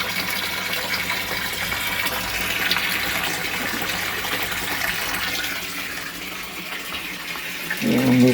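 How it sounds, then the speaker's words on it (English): Water trickles and gushes steadily from a leaking fitting on a tank, a continuous hissy splashing flow that ends in a louder burst of running water. "Some water coming from somewhere."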